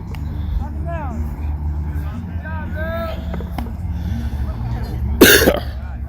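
One sharp cough bursts out near the end, over a steady background hum with people talking at an outdoor flag football game.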